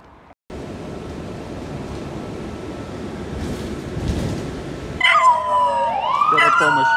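An emergency vehicle siren wails along a Seattle street in late autumn, rising and falling tones arriving loudly after a stretch of steady traffic rumble, with a dog appearing to howl along.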